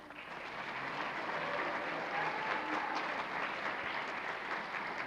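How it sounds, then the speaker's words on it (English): Steady applause from an awards-night audience greeting a nominee, dense and even for about five seconds at moderate distance, with no talk over it. "Let's give a round of applause to Sarah."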